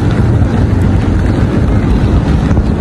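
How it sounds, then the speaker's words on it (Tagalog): Heavy rain pours down steadily while someone walks outdoors, a dense, continuous roar close to the microphone with wind buffeting mixed in, no voices. "Ang ulan. Lakas ng ulan guys."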